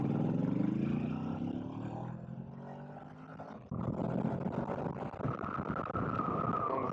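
An A2-licence motorcycle climbs a hill from low revs in second gear, its engine droning steadily with a rising tone, a brief dip, then a harder pull as it gathers speed, with wind noise and no talk.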